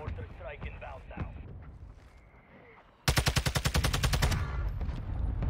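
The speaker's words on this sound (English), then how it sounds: "Requesting fire mission. Target mark. Copy that. Mortar strike inbound now." A mortar strike lands in a video game: after quieter game noise and talk, a rapid string of loud, close, evenly spaced blasts erupts for over a second, followed by a rumbling roar.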